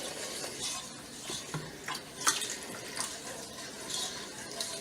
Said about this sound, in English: And I'm using a whisk for this just because it's easier.